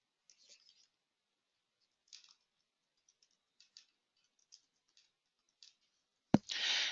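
A computer mouse clicks several times, each click sharp and faint, spaced out over quiet, followed by a louder thump and a burst of soft noise at the end.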